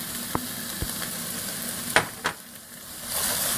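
Seasonings stirred into a pot of white chicken chili: a soft, simmering sizzle broken by a few sharp spoon scrapes and knocks against the pot.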